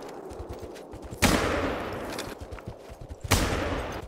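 Two loud, sharp rifle shots from a hunting video game, spaced about two seconds apart, each ringing out over a low, steady background of game ambience with no talking.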